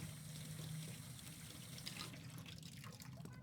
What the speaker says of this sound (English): And then the faucet right here, you can turn it on.